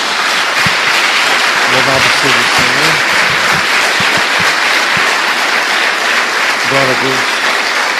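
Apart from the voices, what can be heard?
church congregation applause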